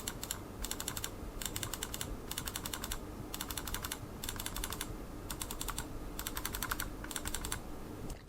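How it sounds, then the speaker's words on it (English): The left button of a Redragon Cobra M711 gaming mouse clicks in quick repeated clusters with short gaps between them, crisp and close, with no talk. "So this is the left click."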